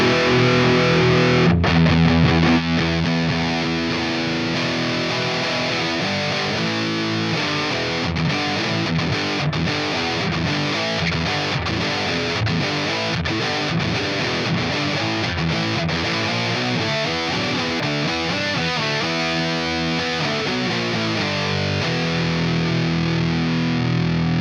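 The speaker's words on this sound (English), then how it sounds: "Let's go ahead and hear that channel 2, or the purple channel, in the 4-watt setting and hear what that sounds like." Electric guitar played through a Revv G20 amp on its purple channel set to 4 watts, heavily distorted with chords and riffs ringing loud and continuous throughout, no talking.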